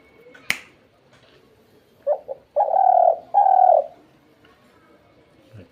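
Dove-style cooing made by a hunter calling doves: a sharp click, then short soft coos followed by two long hollow coos, close and clear against a quiet background.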